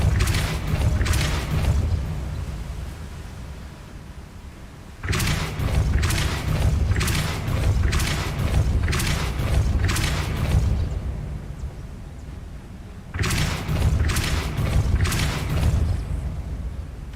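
Depulso spell effects in Hogwarts Legacy, heavy booming thuds arriving in short clusters of rapid bursts, separated by lower rumbling gaps, loud and close with no talk.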